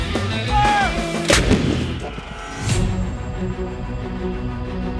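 Canadian Armed Forces artillery gun firing: two heavy, loud booms with deep rolling rumble and echo, no voices.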